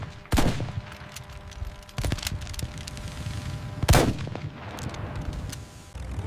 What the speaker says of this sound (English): The first shot in aerial warfare.